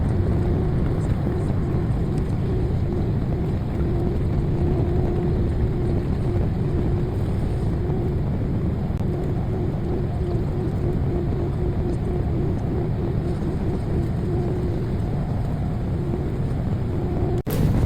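A Citilink passenger airliner taxiing toward the runway, heard from inside the cabin as a steady low engine rumble and hum that carries evenly throughout, with a brief thump near the end.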